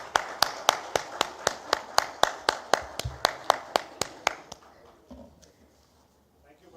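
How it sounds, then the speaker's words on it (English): An audience at a live podium event claps in steady unison, about twenty sharp, evenly spaced beats that stop abruptly, leaving quiet room murmur. "Everyone, one more time, big round of applause"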